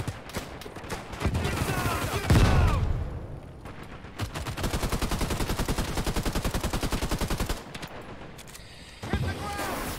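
Gunfire in the online shooter Caliber during a PvP match: loud bursts of rapid automatic fire, with one long steady run of shots in the middle and scattered shots around it.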